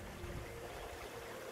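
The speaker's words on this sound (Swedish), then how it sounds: "Riktigt en gigantisk skogså." Small forest stream in Hökensås flows with a continuous, close broadband rush and soft gurgle, steady throughout with no talk.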